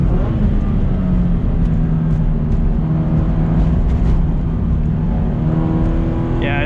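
Subaru BRZ tS pulling hard around a race track, a loud sustained engine drone with rising and falling tones as it accelerates, heard steadily from inside the car.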